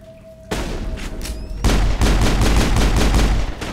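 A turret opens fire in the video game Mass Effect, a loud rapid stream of gunfire pulsing in a steady rhythm after an initial burst, over continuous game noise.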